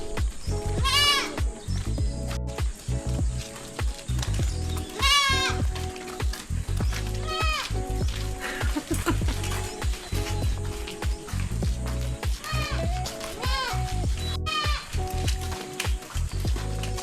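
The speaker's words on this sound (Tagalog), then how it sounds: "Ito lang ang mga kambing ko eh" A small herd of owned goats bleating again and again at Cuyapo public cemetery, loud and close with overlapping calls and brief faint voices in the background.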